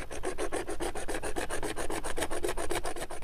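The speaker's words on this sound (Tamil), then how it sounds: "இப்போ நம்ம இந்த 1 இன்ச் பைப்பில் இன்னொரு 5 cmல நம்ம ஒரு பீஸை கட் பண்ணிக்கலாம்." A 1-inch pipe is sawn by hand to cut off a 5 cm piece: a fast, steady run of about twenty rasping back-and-forth strokes, close and fairly loud, with no voices.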